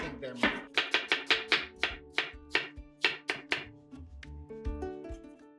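Knife chopping through red and white onions on a board, a quick run of sharp, close chops that slows into scattered cuts with a steady hum behind.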